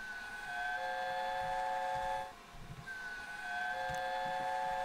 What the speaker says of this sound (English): I think Tornado has the best whistle in the world.